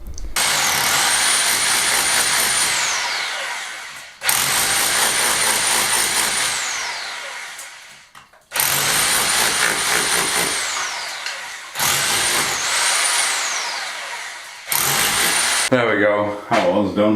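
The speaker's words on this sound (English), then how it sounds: "There's nothing like holding a drill above your head for prolonged periods of time." A power drill whines loudly in repeated long bursts, revving up and winding down between runs as it bores into a wall, held overhead to cut a channel.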